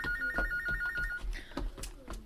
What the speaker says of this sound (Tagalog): Uy, kinsa pa ning nanawag sa telepono?